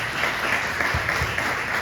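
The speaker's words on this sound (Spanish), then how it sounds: "Dale un fuerte aplauso al Señor Jesucristo." Hearty applause from a church congregation during a sermon, a loud, continuous patter of many hands with a few low thumps underneath.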